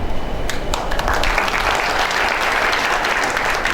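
Sustained audience applause from a crowd at a Gujarati program event, dense steady clapping filling the whole stretch at an even, fairly loud level with no speech over it.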